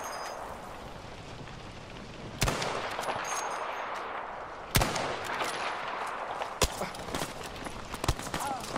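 Sharp, loud gunshots ring out in the battle royale game Battlefield Firestorm, several distinct cracks spaced a couple of seconds apart over a busy background, with a quick cluster near the end and someone talking at times.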